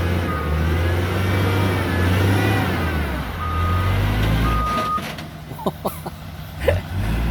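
A dump truck backs up beside a Hitachi ZX200-5G excavator, its engine rumbling steadily while a few short reversing beeps sound near the end, close and fairly loud.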